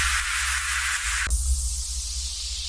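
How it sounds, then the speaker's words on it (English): Two downlifter effects in a modern pop track made in FL Studio: a bright, noisy sweep that drops away abruptly, followed by a softer falling wash over a low steady hum, with no talking. "Now for the effects, I just have two downlifters and one riser that sound like this."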